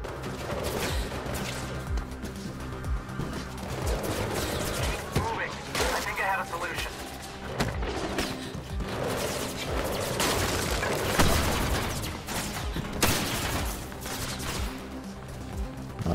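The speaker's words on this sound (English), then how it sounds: "Dodging bullets here." Rapid gunfire and bullet impacts in the video game Mirror's Edge Catalyst, dense bursts of shots continuing throughout, mixed with game music and effects and a voice speaking at times.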